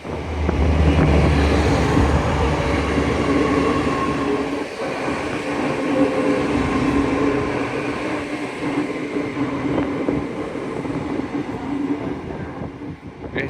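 Train rumbling through York station on the East Coast Main Line, a loud, steady roar of wheels and carriages that holds for several seconds, then eases slightly while still running on, with faint rail squeal at times.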